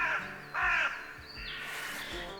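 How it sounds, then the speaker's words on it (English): Crows caw in the Forest of Dean, a few loud harsh calls in short bursts close by, with faint chirping from smaller birds in the background and no talking. "Plenty of crows though."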